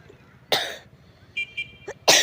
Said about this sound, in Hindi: बहुत ज़्यादा खांसी है यार